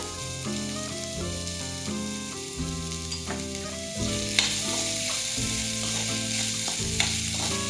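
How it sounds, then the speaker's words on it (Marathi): Vegetables for veg momos stir-frying in a pan, a steady soft sizzle running beneath louder background music throughout. "हे सगळ्या भाज्या आपल्याला एकजीव करून घ्यायच्या आहे जास्त वेळ नाही करायचा आहे पाच मिनिटच परतून घ्यायचे आहे"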